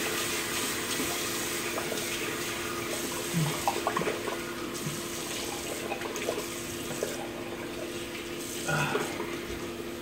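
Tap water runs steadily into a bathroom sink as stubble is rinsed away after shaving, a continuous close rush with a few small splashes and knocks.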